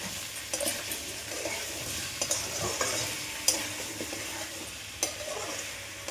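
Raw chicken pieces go one by one into a hot pan for a chicken stew, giving a steady sizzle and frying hiss with soft stirring scrapes and a few small clacks, close and alone with no talking.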